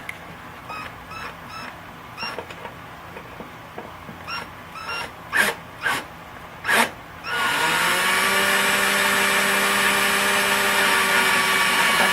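A power drill bores holes into a ukulele body for a pickup transfer, starting as a steady close, loud whine that holds without pause through the second half, after a few short clicks and brief bursts of handling noise.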